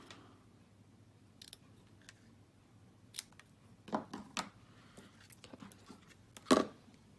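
Scissors snip through the tail of a ribbon during card making, a few soft crisp cuts and small handling clicks, close and quiet with no talking.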